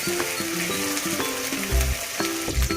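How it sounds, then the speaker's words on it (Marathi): Spice masala fries in hot oil in a pan for chole bhaji, giving a continuous close sizzle with a few scraping stirs and low thumps of the spoon against the pan. "पॅन गरम झाले छान आता मसाला टाकते तेल सुटेपर्यंत असं परतून घ्यायचं"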